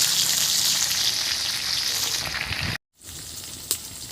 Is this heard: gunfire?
no